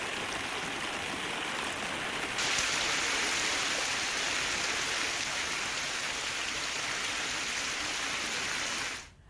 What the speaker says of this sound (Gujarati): અંબાવા, કોયલિયા, સોનિકપુરમાં વરસાદ ખાબક્યો